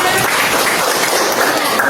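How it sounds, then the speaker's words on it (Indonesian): Loud, dense applause from a group in a classroom-like setting, a close continuous wash of clapping with no pauses. "Kasih tepuk tangan."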